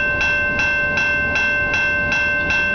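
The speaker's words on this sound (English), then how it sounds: "Maybe it's a grindy train." A slow-moving train rolls past nearby, its wheels grinding and clicking in an even repeating rhythm of about one beat every 0.4 seconds over a steady rumble, with no voices.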